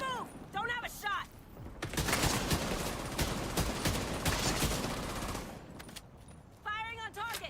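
Sustained automatic gunfire in The Division 2, a loud continuous barrage lasting several seconds, with a voice speaking just before and after the shooting.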